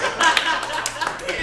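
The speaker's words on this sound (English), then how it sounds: "Please clap." An audience at a comedy show claps briefly, a short burst of scattered applause with some voices mixed in.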